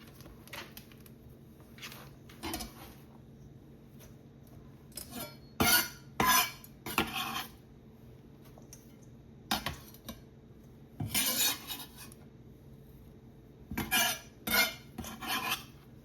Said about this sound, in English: So we're just gonna transfer this to the bowl